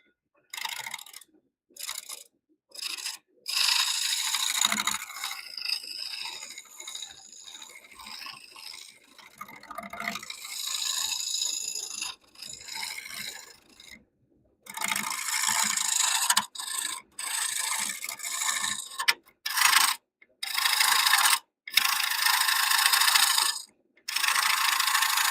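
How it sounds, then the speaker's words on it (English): A round carbide woodturning tool shearing the sides of a spinning live edge bowl on a lathe, producing close, bright scraping rasps in repeated bursts separated by short silences as the tool is lifted and reset. "I think I'm going to switch to my round carbide for a few minutes."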